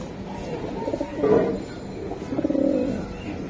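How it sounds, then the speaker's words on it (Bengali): Giribaz high-flying racing pigeon of an old-breed line cooing close up, two swelling throaty coos separated by a short pause, fairly loud against a quiet background. "এটা কি কবুতর?"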